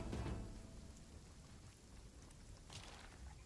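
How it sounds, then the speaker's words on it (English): Steady rain hiss and a low rumble of thunder after a lightning strike in RuneScape: Dragonwilds. The broadband wash sits at a moderate level, with a heavier rumble at the start and a brighter burst near the end. "Lightning just struck up there."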